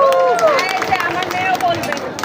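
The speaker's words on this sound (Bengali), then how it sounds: "জন্য জোরে একটি হাততালি হয়ে যাক।" Applause from an event audience, scattered claps rising out of crowd murmur while voices carry over the top.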